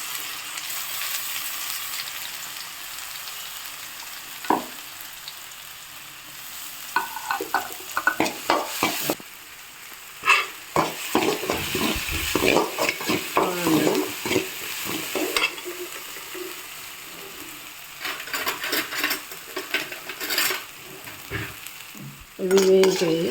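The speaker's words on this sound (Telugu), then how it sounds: "కొంచెం జీలకర్ర, ఈ 3 తాలింపులు వేసేస్తున్నాము" A pongal tempering of green chili, ginger and cumin sizzles in hot oil while a spoon stirs and scrapes the pan, giving steady frying crackle with bursts of clinking metal, close and without talk.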